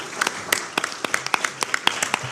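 Conference audience applauding: a brief burst of sharp, scattered hand claps at close range, uneven in rhythm, with faint talk underneath.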